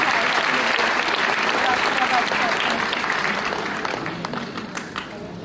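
An audience at a school musical production of The Sound of Music at Father Agnel School, Noida, breaks into loud, dense applause that holds strong, then thins and fades toward scattered claps.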